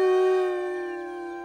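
A wolf's single sustained howl holds a steady pitch, loud at first and slowly fading over a second and a half.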